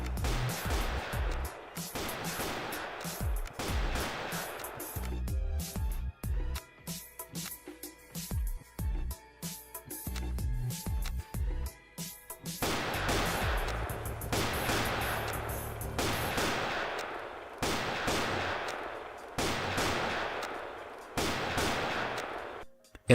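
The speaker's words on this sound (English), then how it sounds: "the Neo rifle will kill in only 4 shots" Neo rifle gunfire in the online game Graal, a series of sharp, loud shots in uneven bursts with brief pauses and a quieter stretch in the middle.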